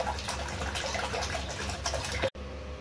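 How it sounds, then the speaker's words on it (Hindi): Water poured into a cooking pot while making mutton white biryani, a continuous splashing liquid stream heard close up for a little over two seconds, then stopping abruptly. "अब इसमें वाटर डाल रही हूँ।"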